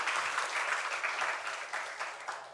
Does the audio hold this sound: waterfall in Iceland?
no